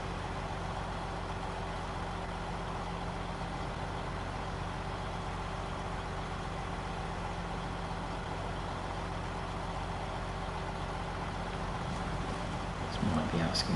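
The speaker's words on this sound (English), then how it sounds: "That is a weapon, high gear in this truck." Truck engine pulling in high gear in the SnowRunner video game, a steady droning hum with a constant low tone, moderately quiet, swelling slightly near the end.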